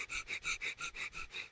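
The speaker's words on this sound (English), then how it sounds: "And you're going to do fire breath, which is like a puppy breath, but through your nose." Rapid rhythmic nasal breaths of yoga fire breathing, about nine quick sharp puffs in a steady pulse, close and fairly quiet, demonstrated alone without talk.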